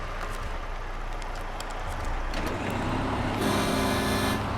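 Truck engine in a snowy truck-driving video game, a continuous heavy diesel drone that grows louder and harsher toward the end with a brief high whine layered on top, no talking.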